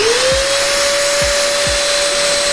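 An iSuper cyclone vacuum cleaner runs with no hose attached, a loud steady high-pitched motor whine holding constant, with a few low thumps underneath.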